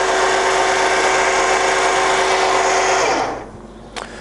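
A Ta Shing TSD-1000 radial arm drill runs at its top spindle speed with a steady, loud mechanical whine for about three seconds, then winds down and fades to quiet, followed by a brief click near the end.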